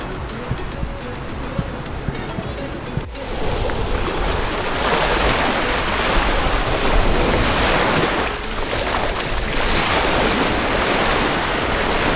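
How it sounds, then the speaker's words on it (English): Sea waves breaking on the seaside near Rome, Italy, a steady loud wash of surf with wind buffeting the microphone, quieter at first and then swelling into a continuous roar. "I'm next to the sea!"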